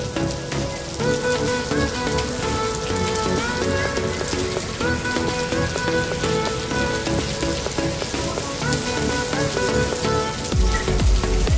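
Heavy rain pours steadily and loudly onto surfaces at Gloria Outlets in Taoyuan, a dense continuous hiss with no voices.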